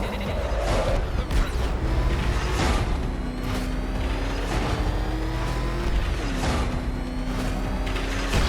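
Batmobile engine from the video game Batman: Arkham Knight, a steady loud engine drone with rising revs and tire noise under a game soundscape, several surges over a continuous roar.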